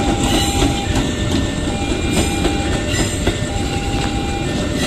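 A KRL commuter electric train passes at night, giving a loud, steady roar with rhythmic clickety-clack of wheels over rail joints, heard up close without any talking.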